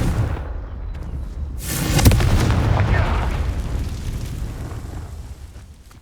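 A Confringo fire spell bursts in the Hogwarts Legacy video game, a booming blast that swells around two seconds in and then rolls off into a long, rumbling fade.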